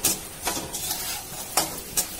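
Peanuts roasting in a dry pan are stirred continuously, a rattling, scraping spoon sound with a few sharp clinks against the metal.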